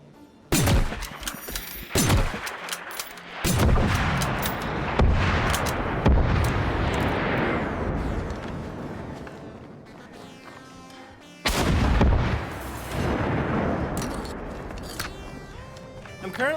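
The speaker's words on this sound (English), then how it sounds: "So this is basically a shoulder fired howitzer." A shoulder-fired howitzer in a video game fires loudly several times, each sharp blast followed by long rumbling explosions and crackling debris, with faint talk in places.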